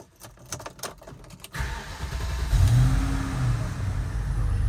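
A BMW E53's N62 V8 engine cranks briefly and catches after motor mount replacement, then settles into a steady, deep idle that rumbles on without any talking.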